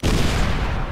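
A C4 blast in the video game Far Cry 3 lands as one loud, dense boom that fills the whole short moment and rumbles without any break or voices.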